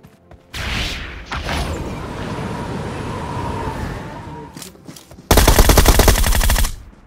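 Gunfire in the mobile shooter PUBG Mobile: a continuous rumble of distant shots and game ambience, then a loud, rapid close burst of automatic fire lasting over a second before it cuts off.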